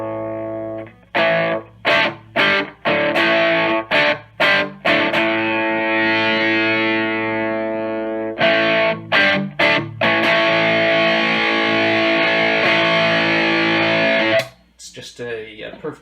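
Electric guitar played through a Signal Flare pedal set to high gain gives distorted, sustained chords and short choppy stabs, loud and upfront, with a long ringing passage before cutting to near silence at the end.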